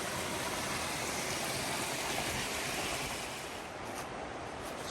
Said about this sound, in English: A mini waterfall.